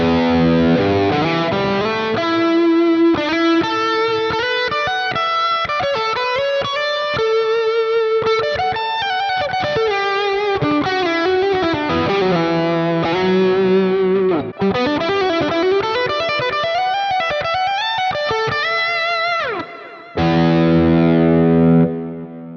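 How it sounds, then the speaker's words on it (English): Electric guitar lead through a Quad Cortex with a compressor in front and a stacked overdrive, a warm, moderately driven tone playing a sustained melodic line with chords, loud and alone, ending on a held ringing chord. "So just kind of a nice warm lead tone, not super overdriven, but with the compressor on the front and the stacked overdrive, it's nice and full."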